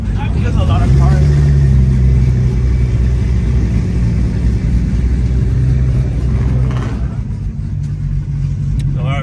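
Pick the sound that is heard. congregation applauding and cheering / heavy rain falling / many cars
many cars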